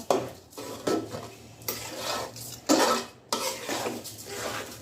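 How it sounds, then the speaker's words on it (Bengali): A utensil scrapes and clanks against a metal pot while rice is stirred into cooked chicken for Bengali morog polao, in uneven bursts of close stirring strokes. "এখন রাইসটা দিয়ে দেব, মিক্স করে নেব"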